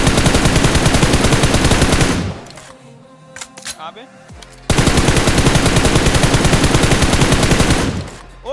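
Rapid automatic gunfire from a mobile battle royale shooter played on an iPhone, two long dense bursts of loud, continuous shooting separated by a quieter gap with scattered shots, with someone speaking briefly.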